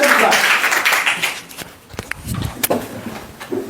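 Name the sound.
class clapping for a student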